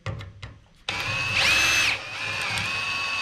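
Power drill boring out rivets from the shop head side, a brief whine rising after some faint clicks, then a steady loud high-pitched grinding with a pitch shift partway, close by with no talk.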